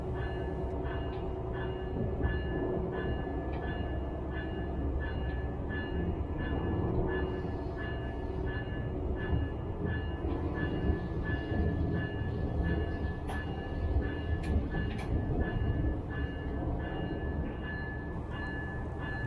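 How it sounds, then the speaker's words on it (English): A Brightline train rolls slowly into a maintenance facility train wash in Orlando, giving off a steady, even rumble and mechanical hum with faint rail clicks and no voices. "The engineer gets a flashing green light, signaling that the train can start entering the building."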